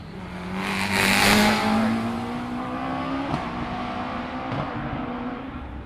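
A Caterham race car climbs the hill at Loton Park hillclimb, its engine droning and rising in pitch as it accelerates away, loud at first and slowly fading into the distance.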